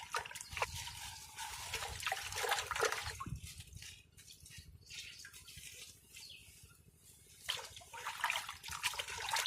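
Molasses being stirred into two litres of water, giving a close, steady trickling and sloshing of liquid with occasional splashes and drips.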